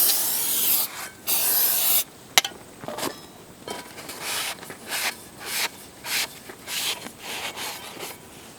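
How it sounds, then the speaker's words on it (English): Cleaner sprayed in a series of short hissing bursts onto a new rear brake rotor for a 2013-2017 Honda Accord to strip its anti-rust oil, with rubbing and wiping sounds between sprays, close up and no talking. "So you're going to want to spray that off and wipe it off before you put these on the car."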